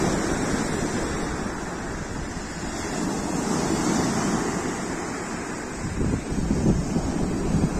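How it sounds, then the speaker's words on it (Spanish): Sea waves at Playa de La Araña beach rolling and washing ashore in a continuous broad roar, with wind buffeting the microphone and a slightly stronger surge near the end, no voices. "para que le guste el sonido del mar, perfecto para relajarse"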